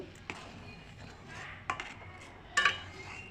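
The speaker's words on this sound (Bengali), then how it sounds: "এবারে আমি খুন্তি দিয়ে আস্তে আস্তে নেড়ে দেব" Semolina being stirred with a spatula in boiling milk: soft scraping and a few sharp metallic clinks of the spatula against the pot, fairly quiet and close.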